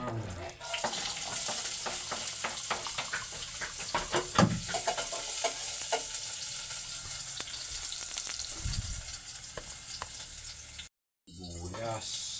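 Garlic frying in cooking oil for a sardine dish, a steady bright sizzle running throughout with scattered clicks and utensil knocks, briefly dropping out near the end before resuming.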